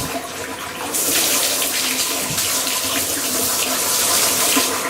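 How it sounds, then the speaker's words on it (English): Warm water running from a household tap into a bath being filled for bubbles, starting with a soft trickle then gushing loudly and steadily close by, with no talking. "Yeah, that's the warm water."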